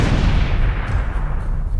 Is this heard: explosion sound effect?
yes